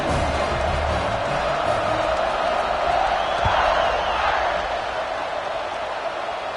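A stadium crowd in the College Football 26 video game keeps up a dense, steady roar of cheering that fills the whole stretch at an even, loud level.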